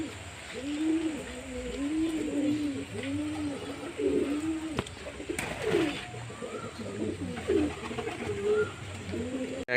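Pigeons coo repeatedly in a soft, rhythmic series close by as they eat scattered grain, with low background noise and a few faint clicks.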